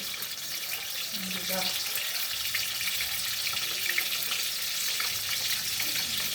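Fresh fish frying in hot oil, a steady broadband sizzle and crackle that holds loud and even throughout, with a brief low tone near the start.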